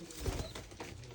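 Pigeons cooing at a home farm loft with tufted and local birds, soft low coos rising through a busy, steady background of flock sounds, close by and moderately loud with no talking.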